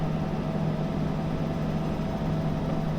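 Locomotive engine in the Derail Valley train game, a steady low droning hum running continuously as the train climbs an uphill grade.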